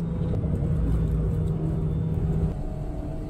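An Alpine A110 sports car laps a wet track at Phillip Island, taken slowly. It gives a steady, loud engine drone and low rumble, with faint tyre spray, heard continuously from close by.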